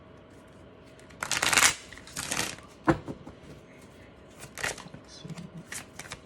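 Tarot cards shuffled in a few bursts of papery riffling and flicking, close and moderately loud, with a brief spoken aside partway through.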